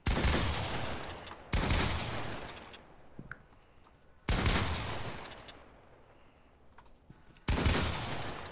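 Bursts of rapid video game gunfire come from a shooter game in creative mode. Four loud volleys are spaced a couple of seconds apart, and each one trails off between bursts.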